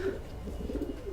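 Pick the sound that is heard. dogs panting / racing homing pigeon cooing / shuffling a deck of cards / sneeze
racing homing pigeon cooing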